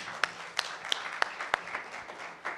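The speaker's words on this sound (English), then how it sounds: "So I would request everybody to please give them a big round of applause" Applause from a conference audience at a business conclave in Jaipur: sparse, sharp individual claps close by over a soft background patter, uneven and thinning out.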